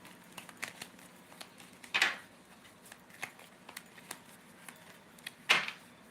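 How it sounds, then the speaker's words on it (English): Soft riffling and snapping of a tarot deck being shuffled indoors, with faint crinkly rustles and two sharper, louder riffle bursts, heard alone and close. "There's a lot of shuffling going on."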